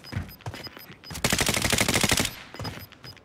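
Rapid automatic rifle fire in Call of Duty: Modern Warfare on Rebirth Island, a sustained loud burst of about a second and a half with lighter scattered shots before and after, up close in a battle royale match.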